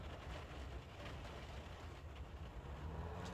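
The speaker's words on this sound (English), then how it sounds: "Wookie, there's a train." A train rumbles past at steady volume, with a low engine drone and faint rhythmic clatter of wheels on rails throughout.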